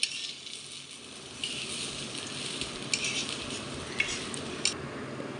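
Ginger and rice stirred and fried together in a pan for basanti pulao, a steady soft sizzle with a few scraping knocks of the spoon, fairly quiet and close.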